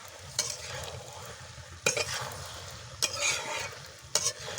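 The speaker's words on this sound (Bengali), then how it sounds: "দেখতে পাচ্ছ কীভাবে আমি নাড়াচাড়া করছি।" Fried lentil bori and potatoes are stirred in a pan on the stove, giving a steady sizzle with scraping spatula strokes recurring every second or so; no talking.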